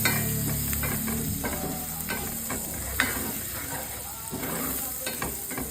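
Garlic fries in a pan with a dense, continuous sizzle, mixed with close stirring scrapes and a few sharp utensil knocks.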